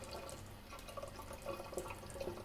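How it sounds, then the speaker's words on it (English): Water from the bottom hose of a home water ionizer pours steadily into a container, a soft continuous splashing trickle heard close and fairly quiet, with no voices. "get the water from the bottom hose. And I'm just going to empty a bit out of there"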